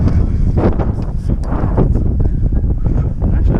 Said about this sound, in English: it's windy enough to be knocking over all these garbage cans. And they're gusts.